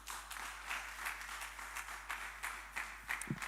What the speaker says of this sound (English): Another round of applause to our guest panelists.